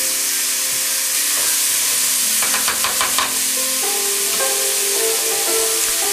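Oxtails dropped into a pot where beef and onions are searing for beef barley soup, a steady loud sizzle and hiss with a burst of crackling spatter midway as the meat hits the hot surface, then continued frying.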